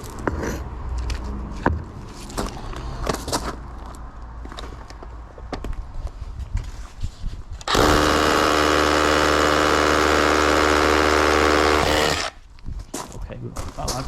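Bosch SDS Max hammer on chisel setting breaking brick and block, a loud dense rattling burst of about four seconds in the middle, preceded and followed by scattered knocks and handling noise.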